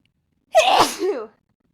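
A single loud, close sneeze, sharp and breathy, trailing off quickly with no other sound around it.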